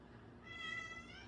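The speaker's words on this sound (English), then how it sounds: "My cat, sorry, my cat's behind me and she's crying." A pet cat meows behind a person in a kitchen, one drawn-out, faint cry rising over a low room hum.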